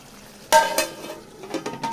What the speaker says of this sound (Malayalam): ഇനി ഈ ഭാഗവും ഒന്ന് ഫ്രൈ ആയി വരട്ടെ